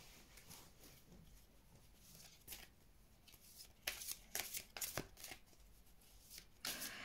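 Tarot cards are shuffled for a reading, with soft, repeated riffling and slapping bursts of card stock, close and quiet, coming in irregular clusters.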